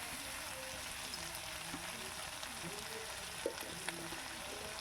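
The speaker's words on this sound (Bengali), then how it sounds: "ভালো করে আমি ভেজে নিচ্ছি আলুর পেঁয়াজের সাথে" Potatoes and onions frying in a pan, a steady close sizzle running throughout with a couple of brief clicks from stirring.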